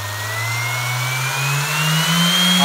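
A Dexter orbital sander winds up from low to maximum speed, its motor whine rising steadily in pitch and growing louder, close by with no talking.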